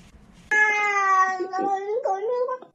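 A cat lets out a single loud, close meow that rises and wavers over about two seconds, with a short bend in pitch partway through, and it is heard alone.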